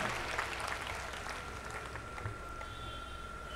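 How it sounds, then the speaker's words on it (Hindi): An audience at a Hindu devotional gathering applauds to welcome a revered swami, steady mid-distance clapping that continues evenly throughout with a faint tonal hum beneath. "जरा ताली बजा करके उनका अभिनंदन करिए।"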